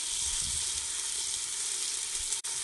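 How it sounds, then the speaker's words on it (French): Meatballs browning in a Ninja Foodi Max, a steady, even sizzle and hiss of frying throughout with faint low rumbles and a brief dropout near the end, no speech. "venir faire revenir brièvement les boulettes de chaque côté"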